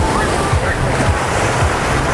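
Strong ocean surf pounds a beach in Ilocos Norte, a loud, dense wash of crashing waves with heavy wind buffeting the microphone, steady and close for the whole stretch.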